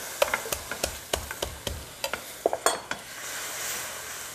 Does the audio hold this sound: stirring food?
yes